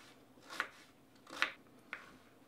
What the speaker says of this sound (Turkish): şöyle küp küp doğruyorum